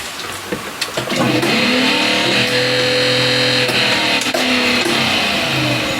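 A Minn Kota electric trolling motor running in reverse, held as a test run out of the water, gives a steady close mechanical whine with a strong hum and a few faint clicks as it spins up, continuous and unbroken.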